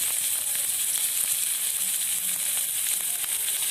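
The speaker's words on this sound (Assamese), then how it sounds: "জিৰাখিনি ফুটাৰ পিছত পিঁয়াজখিনি দি দিছোঁ" Onions frying in hot oil with cumin seeds, a steady close sizzle and crackle throughout.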